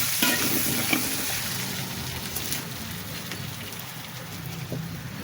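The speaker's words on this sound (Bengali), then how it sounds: "বিশেষ করে আলুটা ভাজবো, আলুটা ভাজা লাগে" Potatoes fry in a pan for a mustard-paste mixed vegetable dish, giving a continuous sizzling crackle with occasional stirring scrapes and clinks, fairly close and steady, with no talking.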